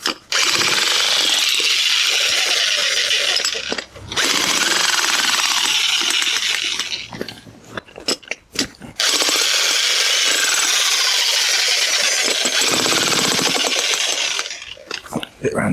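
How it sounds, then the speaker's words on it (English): A loud electric breaker hammers continuously into concrete around the base of a small fence post outdoors, its dense chattering impacts running in long bursts with two brief pauses between them. "So just going to take the brake around the bottom of the post to break the concrete up."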